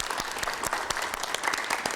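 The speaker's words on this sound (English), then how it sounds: "So I'd like to give them a round of applause as well." Steady audience applause at a school board committee meeting, a dense continuous patter of many hands clapping at moderate level for about two seconds with no voices on top.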